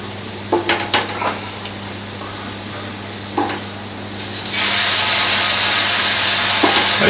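Halloumi frying in a hot pan gives a steady, loud sizzle that swells to full strength partway through, after a few light scrapes and knocks from stirring, with no talking.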